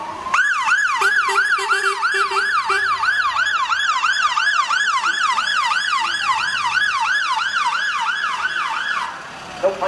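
Emergency vehicle sirens wail continuously at a St Patrick's Day parade in Monaghan town, led by the fire brigade, with a steady rapid up-and-down yelp pattern, loud and close, cutting off near the end.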